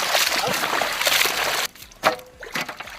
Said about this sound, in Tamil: தண்ணி ஊத்தவா ஊத்து தண்ணி ஊத்து ஊத்து